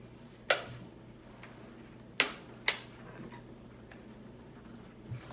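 A Nintendo Switch console clicks with a single Joy-Con, giving a few sharp, isolated snaps spaced unevenly over a quiet, faintly humming room.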